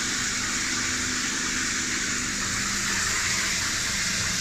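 Water gushes steadily and without pause in a recirculating infinite shower, a dense, even hiss of spray that fills the space with no one speaking.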